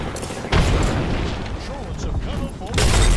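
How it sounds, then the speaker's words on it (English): Airstrike bombardment going off in Apex Legends: a loud, heavy booming roar begins half a second in and rolls on continuously, surging again near the end, with game action layered throughout. "I'm getting hits with my bombardment."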